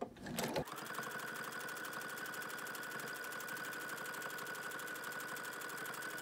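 A sewing machine stitches binding onto a quilt in a fast, even, continuous mechanical whir with a steady rhythmic chatter, starting after a brief handling sound and running alone at moderate level.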